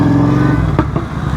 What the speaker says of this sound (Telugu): బాబా గేర్ షిఫ్ట్ చేద్దామన్నా కూడా పాప్స్ అండ్ బ్యాంగ్స్.